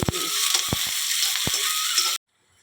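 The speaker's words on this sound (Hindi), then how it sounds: "लहसुन भुजा के मैं डाल दे हूँ प्याज और प्याज लेना मस्त ऐसे गोल्डन ब्राउन भूंज लेना है" Onions fry in oil with garlic and chili to golden brown, a steady bright sizzle broken by a few scraping stirs, close and loud, cutting off abruptly at the end.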